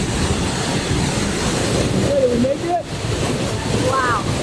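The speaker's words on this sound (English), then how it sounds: "I can hear the falls." A steady roar of rushing water from a waterfall in Colombia fills the background, with a few brief tonal chirps rising over the wash.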